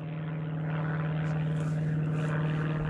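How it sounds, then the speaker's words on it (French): A propeller airplane flies overhead above an apiary in October, its steady engine drone holding throughout as a continuous, moderately loud hum with no talk. "Tu le vois l'avion ?"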